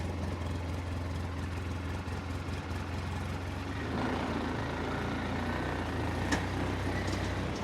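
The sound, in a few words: truck reversing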